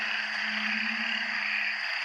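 Frogs and toads calling loudly around a pond after rain, a dense continuous droning chorus with a steady low tone and a bright high buzzing band, close and unbroken, with no voices.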